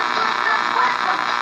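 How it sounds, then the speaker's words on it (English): Steady interference hum and broadband static from a Zenith Royal 400 transistor radio, continuous and fairly loud throughout with no breaks. "There's a lot of interference in here."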